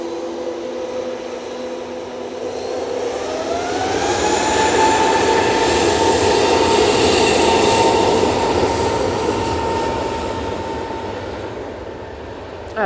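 A brand-new Airbus A321neo jet departing Manchester Airport for Barcelona, its engine whine rising in pitch as the roar builds to a loud, sustained peak before slowly easing off, with no voices.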